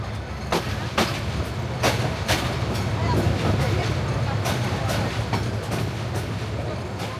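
The Parjotak Express runs from Dhaka to Cox's Bazar with a low, continuous carriage rumble and sharp rhythmic rail clicks every second or so, heard from inside the train with faint passenger chatter.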